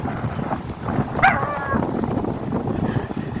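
A single dog bark rings out near a car at a durian orchard, brief and moderately loud over steady wind and engine noise.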